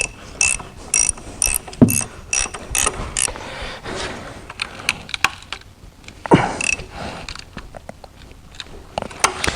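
A ratchet wrench clicks in quick bursts, tightening the belt tensioner bolt on a Porsche 911 996 M96 engine, with metallic knocks and scrapes between strokes, close up and without talk.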